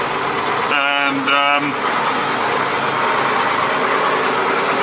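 A Ford TW25 tractor engine runs steadily on a short test drive, a loud, continuous close-up drone that holds throughout, with a brief voice at the start.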